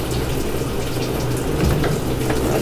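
Water streams steadily into a Samsung automatic washing machine as it refills, a constant close rushing flow that stays loud throughout.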